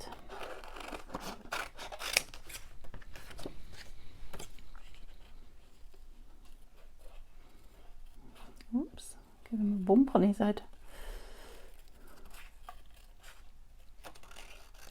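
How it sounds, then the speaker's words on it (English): Large scissors snip paper ephemera close by while making a folio in a quiet crafting setting, a few crisp cuts and rustles scattered through the stretch, with soft spoken remarks now and then. "Sorry if those scissors are a bit close to you, they are quite big"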